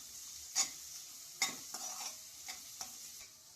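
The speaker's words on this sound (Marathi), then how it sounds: "कांदा हा आपल्याला ब्राऊन रंगावर तळून घ्यायचा आहे।" Garlic and onion fry in oil for soybean keema, a soft steady sizzle broken by several distinct spatula scrapes and taps against the pan, close but fairly quiet, no talking.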